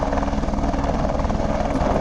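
A helicopter at the Kedarnath base camp helipad beats steadily and loudly with a rapid rotor thump under a dense engine roar, close by and continuous throughout.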